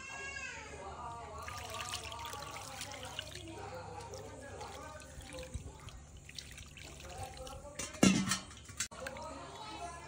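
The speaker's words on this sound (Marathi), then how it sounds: "आता आपण या मासलीला धुवूया" Tap water runs and splashes as cut pomfret fish is rinsed, with trickling and dripping sounds and a louder splash near the end, while a person talks over it.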